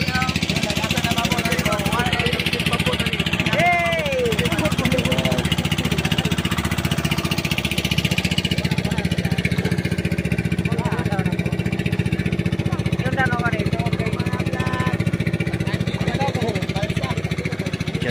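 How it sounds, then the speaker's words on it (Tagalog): The steady, droning engine of a raft-style boat chugs throughout, loud and close, with people chatting over it and occasional whistling or voices rising above the motor. "Ang makina yan doon lang."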